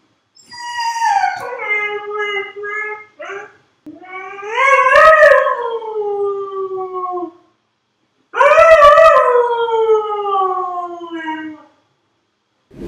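Dogs howling at night in long, rising and falling wails, several drawn-out howls separated by brief pauses, loud and close with no talking.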